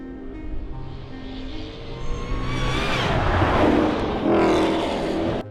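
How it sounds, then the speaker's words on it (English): Ford Mustang GTD track car engine roaring through an Akrapovic titanium exhaust with active valving, rising steadily in pitch and loudness as it accelerates, close and sustained. "the aural symphony blasting from the available Akrapovic titanium exhaust pipes with active valving."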